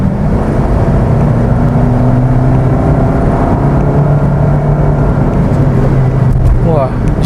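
A Suzuki Ertiga Hybrid accelerates gently as the gas is pressed, a loud steady engine and road drone heard from inside the cabin with a slight rise in pitch.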